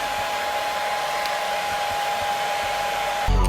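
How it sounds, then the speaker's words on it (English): A hair dryer blows with a constant whooshing roar and a steady high whine, running alone before a brief louder burst at the end. "I'm gonna be using my hair dryer"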